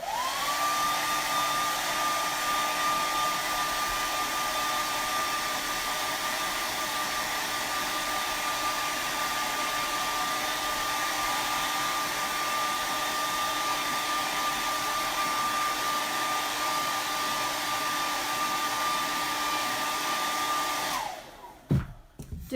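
Hairdryer blows a continuous loud whooshing roar with a steady whine for about twenty seconds while drying paint, then switches off with a short rattle and clatter.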